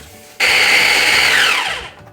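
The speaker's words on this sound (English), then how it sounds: "we'll just get that pureed up and add it to our yogurt" A blender whirs loudly as it purees oatmeal for dog treats, starting abruptly, holding a steady high whine, then winding down as it stops.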